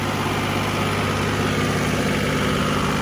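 John Deere loader tractor engine idling steadily up close, a loud, even diesel rumble with a constant low hum and no voices.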